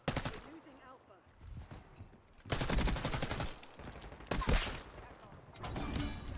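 Sustained automatic gunfire and rapid shooting bursts in Call of Duty Black Ops 6 multiplayer, loud and dense with brief lulls, a voice talking underneath the shots.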